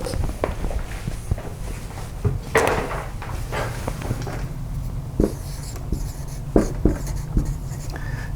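A pen writes on a board during an econometrics lecture, with light scratchy strokes and occasional taps and knocks, heard close over a steady room hum.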